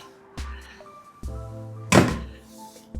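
A 2025 Nissan Interstar Tekna van's 270-degree opening rear door latches against the side of the body with a few solid metallic thunks, one loud clunk in the middle, close and without talk.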